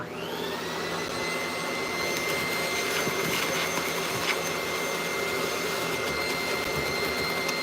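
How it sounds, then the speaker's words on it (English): A Dyson V11 cordless vacuum cleaner spins up and runs on a dirty filter, a loud, steady, high motor whine close by with faint rattling ticks over it. "So let me vacuum off this filter a little bit."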